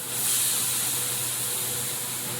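Raw meat hits hot Kashmiri chilli spice paste in oil for a country-chicken curry, giving a loud, continuous sizzling hiss that holds steady throughout.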